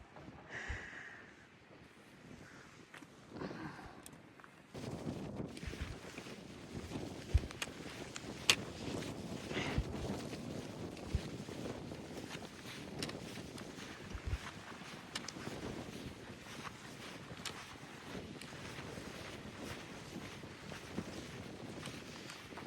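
Gusty wind buffets the microphone in broad, rough rushes on the Appalachian Trail, with occasional thumps and crackles, fairly faint and continuous with no one talking.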